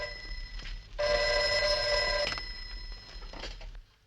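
An old landline telephone bell rings in one loud sustained burst, close by with a faint room tone around it, in a 1960s spy-drama setting.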